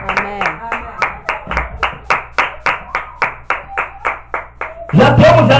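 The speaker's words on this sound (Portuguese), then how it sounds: "Dá uma salva de palmas para Jesus Cristo" A church congregation claps for Jesus Christ in loud, steady, rhythmic unison, about three claps per second, before a burst of voices and noise cuts in at the end.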